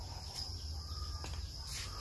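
Crickets chirp steadily from breeding cages where Thai golden crickets are raised for eggs, a continuous high shrill trill held at moderate level throughout, over a low steady hum.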